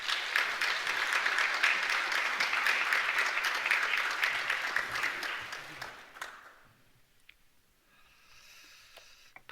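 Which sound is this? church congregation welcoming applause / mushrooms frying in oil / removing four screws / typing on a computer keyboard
church congregation welcoming applause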